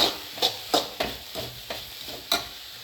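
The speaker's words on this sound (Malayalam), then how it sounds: "നന്നായിട്ടൊന്ന് മിക്സ് ചെയ്തെടുക്കണം." Curry leaves and green chili are stirred with softened onion in a sizzling pan for chilli chicken, with about seven rhythmic, close spoon scrapes over a steady frying hiss.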